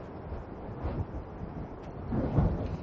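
Strong gusting wind batters the microphone during a DJI Air 2S drone flight test outdoors, a steady low roar that swells louder toward the end with no voices.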